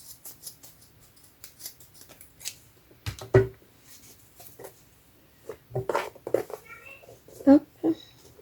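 Scissors snip through a stained knit pullover in a few separate, close cuts, spaced out between stretches of quiet and a person talking.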